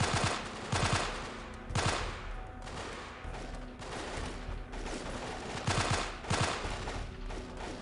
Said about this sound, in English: I'm taking heavy fire over here